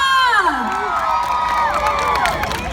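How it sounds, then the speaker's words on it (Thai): A crowd at the Icon Countdown 2019 New Year's event at River Park in Bangkok cheers and whoops loudly, high excited voices sweeping up and down over scattered clapping. "ใครเห็นด้วยขอเสียงปรบมือ"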